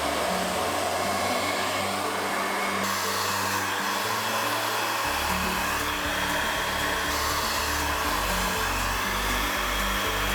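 A hair dryer blows continuously at close range on hair wound around a roller, a steady whooshing hum whose pitch shifts slightly as the setting or angle changes.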